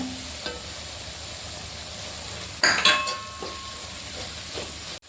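Pork with turmeric and pepper powder sautés in a pan, a soft continuous sizzle with a clear burst of clinking and scraping from a spoon against the pan midway and a final knock.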